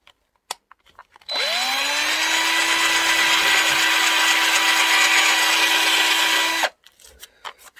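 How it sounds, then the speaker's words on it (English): A power drill boring a hole through a VW hubcap fuzz pedal enclosure held in a vise, spinning up to a steady loud whine for about five seconds before stopping, with a few faint clicks around it. "And I'm going to drill."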